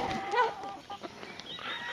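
An old Sussex hen, about four years old, clucking close up on a family farm, giving a few soft throaty clucks and murmurs over quiet farmyard background.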